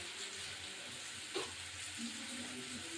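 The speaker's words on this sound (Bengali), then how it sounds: "দিয়ে একটু নাড়াচাড়া হবে, মশলাটা একদম কষে যাবে" Masala of melted tomatoes with cumin and coriander powder for giant prawn dopiyaza fries in a pan. A steady, faint sizzle runs throughout, broken by a single soft stirring scrape.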